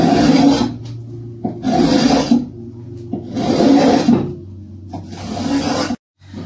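Hand plane shaving the corner of a piece of wood, several loud close rasping strokes in a steady back-and-forth rhythm with short pauses between passes.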